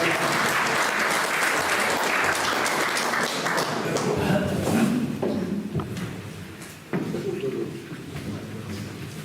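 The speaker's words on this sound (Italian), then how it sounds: "un applauso a Sandra." Audience at a Sardinian poetry contest in Ardara claps for a contestant, a dense wash of applause that gradually thins and quiets, with a few scattered claps and thuds near the end.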